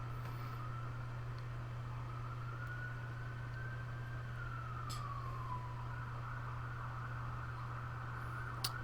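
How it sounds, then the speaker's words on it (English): Distant emergency vehicle siren wails outside, a faint slow rise and fall carried over a steady low electrical hum indoors, with a few soft clicks and no talking. "it seems like there's some sort of an emergency outside. I don't know if you can hear the sirens."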